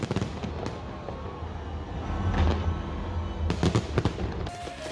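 New Year fireworks over the London Eye on a sub-zero night: distant booms and crackling bursts pop irregularly through a continuous crowd-and-city wash, with a few sharper, louder clusters toward the end.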